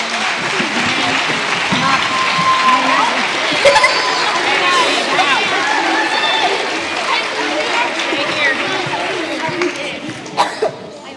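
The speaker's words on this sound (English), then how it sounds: "One more round of applause for our soloists." An audience at a fourth grade spring school performance applauds the soloists, sustained clapping mixed with chatter, light laughter and a few whoops, close and fairly loud throughout.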